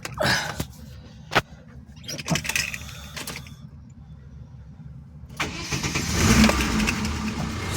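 A ZAZ Tavria car engine is cranked with a few clicks and short attempts, then catches and runs with a rising, rough idle, heard close up.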